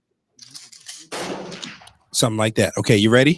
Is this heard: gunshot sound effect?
yes